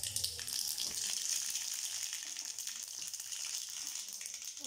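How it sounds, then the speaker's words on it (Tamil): Mustard seeds spluttering in hot oil in a kadai, a dense crackling sizzle with rapid popping that continues steadily and close up, no voices. "கடுகு நல்லா பொரிஞ்சிருச்சு"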